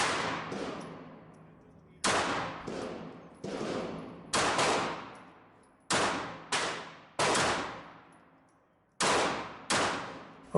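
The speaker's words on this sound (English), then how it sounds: "I'll try to shoot a few shots here." A Smith & Wesson M&P Shield EZ .380 pistol fired outdoors, ten loud sharp shots in uneven spacing, some in quick pairs, each ringing off with a long echo and no talking.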